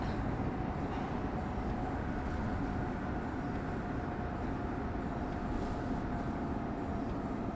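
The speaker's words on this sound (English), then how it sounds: "Wow, another train." A passing train in Train Sim World 4 on the busy Northeast Corridor main line, a steady loud rumble of rolling wheels and engine drone that holds constant throughout, with a faint tonal hum on top.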